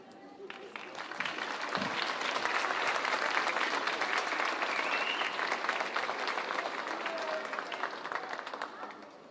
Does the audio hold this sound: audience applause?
yes